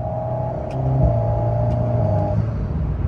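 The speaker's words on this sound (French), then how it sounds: "On entend aussi un peu l'admission parce que c'est juste là." Alpine A110 engine humming steadily with some intake noise, a close, continuous drone that swells slightly in the middle before holding level, with no talking.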